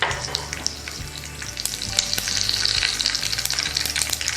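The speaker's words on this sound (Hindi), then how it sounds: "तो अब हमारे ये तड़कने लगे हैं खड़े मसाले और जीरा वगैरह।" Cumin and mustard seeds crackle and sizzle in hot oil for a tadka, a dense, steady fry with scattered sharp pops that grows slightly busier midway, close and moderately loud with no talking.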